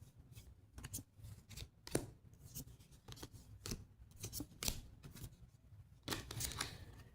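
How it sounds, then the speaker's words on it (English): Uno No Mercy cards being drawn one after another from the deck, a run of soft papery slides and flicks in an uneven rhythm, close and moderately quiet with no talking. "now this player has to draw 8 cards"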